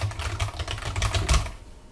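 Rapid clicking keystrokes on a computer keyboard while a short name is entered into a database form field, a close, steady burst lasting about a second and a half before falling quiet.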